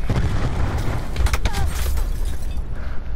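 A flashbang grenade goes off in a shooter game, a muffled boom with a ringing, washed-out tail over steady low game rumble, with a voice briefly heard.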